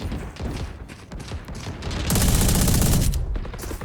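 Bursts of automatic gunfire in the video game Valorant during a deathmatch, a continuous crackling volley that grows louder and denser midway and holds for over a second.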